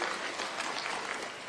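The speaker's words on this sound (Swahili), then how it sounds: "mpigieni makofi" A stadium crowd at a prayer gathering in Kenyatta Stadium, Machakos, applauds in a steady, dense wash of claps that sounds fairly distant and faint and carries on evenly without a break.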